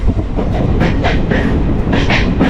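The Palaruvi Express pulls away from Ottapalam station, a steady loud rumble of wheels and carriages with repeated clickety-clack rail joints passing close by throughout.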